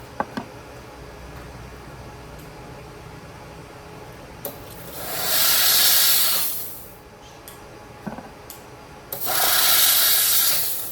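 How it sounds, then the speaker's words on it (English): A handheld steamer blasts a 3D-printed solid model clean, giving two loud, sustained hissing bursts of roughly two seconds each with quieter room tone between them. "So I'm gonna use a steamer to steam this off."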